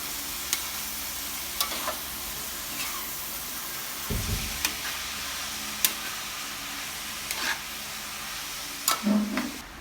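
Chopped banana heart is stirred in a sizzling pan, with intermittent scrapes and taps of the spoon over a low, steady frying hiss.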